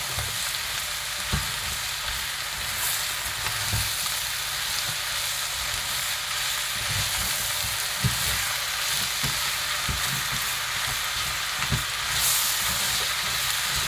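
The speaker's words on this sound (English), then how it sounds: "you want to leave the gas on high, because you don't want any moisture to be left in the curry, and you want it to be dry fried" Mushrooms and onion masala dry fry over high gas in a curry pan, giving a loud, continuous sizzle and hiss with scattered stirring knocks throughout.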